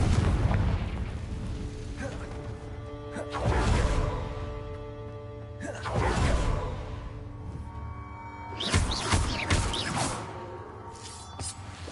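Confringo spell blasts in Hogwarts Legacy, several loud, booming fiery bursts spaced a couple of seconds apart amid combat effects, each with a sharp crackling onset and a rumbling tail.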